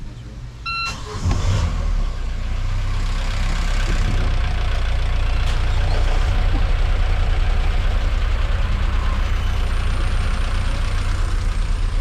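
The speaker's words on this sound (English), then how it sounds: "We are going to start the engines, both of them." The twin engines of a Fountaine 44 catamaran start up after a brief electronic beeping, then settle into a loud, steady rumbling idle that runs on continuously.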